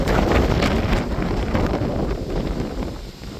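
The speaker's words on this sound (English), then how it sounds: "That's blowy, boy." Strong wind blasting across the microphone outdoors in Vietnam, a loud, continuous rumbling roar with gusty swells and no other sound standing out.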